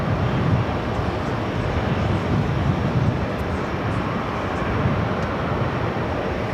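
A JetBlue Airbus A320 takes off at JFK, heard as a loud, steady broadband jet engine roar that holds an even level throughout, with no voices over it.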